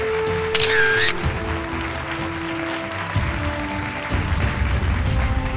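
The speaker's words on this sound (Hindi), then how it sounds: "एक बार जोरदार तालियां फ्रॉम महालक्ष्मी ज्वेलर्स" An audience at a News18 BIZNEXT Rajasthan business event on stage applauds for Mahalakshmi Jewellers in a steady, fairly loud wash of clapping, with camera clicks and other stage sounds underneath.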